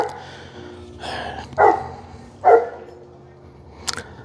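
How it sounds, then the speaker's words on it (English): Neighborhood dogs bark in the distance while custom seat covers are fitted in a 2022 Subaru WRX, two sharp, separated barks with softer yips around them over a quiet background. "Now every dog decides to bark in the neighborhood."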